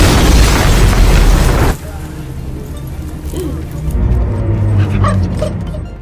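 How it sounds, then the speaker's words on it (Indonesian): An explosion in a cartel action film scene bursts out as a loud, wide roaring blast, then cuts abruptly to a quieter rumbling aftermath with scattered faint sounds. "tiba-tiba terjadi ledakan dan akibat ledakan itu, dua anggota tim Kate tewas di tempat."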